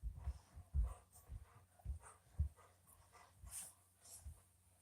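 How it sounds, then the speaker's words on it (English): Dogs waiting to be let inside, faint panting breaths and soft whimpers repeating irregularly at close range, quiet overall. "Have to let the dogs in."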